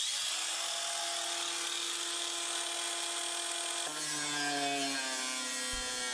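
Leftover tin sheet being cut into strips, a steady loud grinding, rasping whine with strong sustained tones that shift pitch partway through, heard alone without talk.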